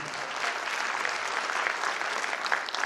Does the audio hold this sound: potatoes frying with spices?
no